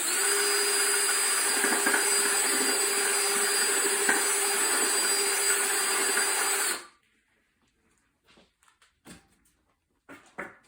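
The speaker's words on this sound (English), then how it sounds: "I allow the drill bit to do the work" A power drill whirs steadily and loudly for several seconds while enlarging a hole for a Christmas topiary, then stops abruptly, followed by a few faint clicks and light handling sounds.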